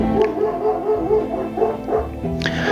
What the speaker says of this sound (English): you can probably hear my dog barking in the background